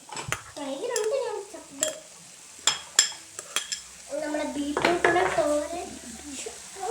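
Ground coconut paste is stirred into jackfruit seed thoran in a pan, with scattered spoon clinks and scraping against the metal. A faint voice-like murmur runs in the background between the sharper knocks.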